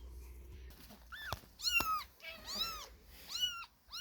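A cat meows several times, rising and falling cries spaced a second or so apart, fairly close and moderately loud with quiet gaps between.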